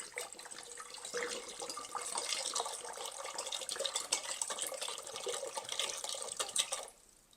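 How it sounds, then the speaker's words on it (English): One liter of water is poured into a blender jug, a steady splashing stream lasting several seconds that stops abruptly near the end, close and without talk. "So I'm just gonna add 1 liter of water here."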